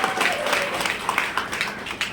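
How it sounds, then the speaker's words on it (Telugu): Audience applause at a motivational business talk, a short burst of scattered clapping from a crowd, moderately loud and without voices over it. "ఒకసారి జోరుదారు చప్పట్లు కొట్టాలి"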